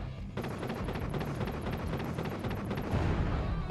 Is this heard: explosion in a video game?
yes